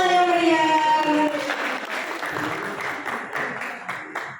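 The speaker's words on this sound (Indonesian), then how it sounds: "Kita berikan tepuk tangan yang meriah." Audience applause at a school event staging a traditional Javanese wedding in Indonesia, rising as a sustained musical tone fades out, then continuing as steady, moderately loud clapping from the crowd.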